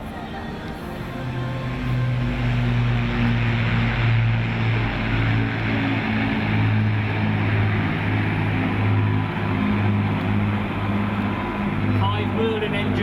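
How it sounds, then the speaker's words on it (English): Five Merlin engines on a Hurricane, a Spitfire and a Lancaster bomber fly in close formation at the Sunderland Airshow, producing a steady, low, humming drone with wind noise that holds throughout. "Five Merlin engines flying there in close formation."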